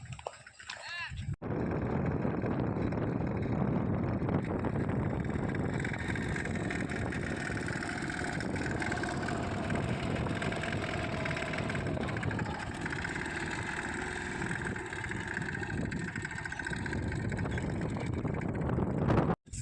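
A steady, loud tractor engine drones continuously with a low rumble throughout, close by, with a brief quieter start, during sowing.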